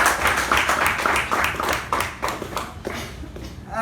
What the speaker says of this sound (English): A nice round of applause for Sai Snehal